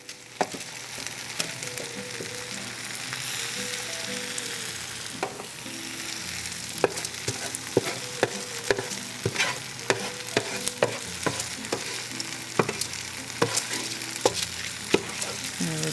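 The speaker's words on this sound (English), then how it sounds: "we're going to add these leeks and the mushrooms right into our risotto mixture" Leeks and mushrooms sizzle steadily in a pan of risotto as a spoon stirs them, with a constant soft frying hiss broken by frequent sharp scraping clicks of the utensil.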